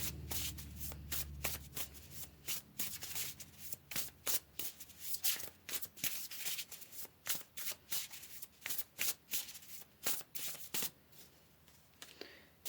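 Tarot cards being shuffled by hand, a long run of crisp riffling bursts in a steady rhythm, close up and fairly quiet, with no talking.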